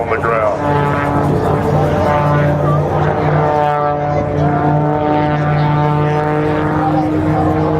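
An OV-1 Bronco propeller aircraft, a CAL FIRE plane, drones loudly and steadily overhead at the 2012 Robins Air Force Base air show, with a public-address announcer talking over the engine noise.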